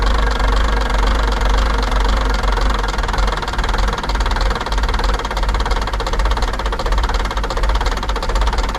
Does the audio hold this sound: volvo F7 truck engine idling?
yes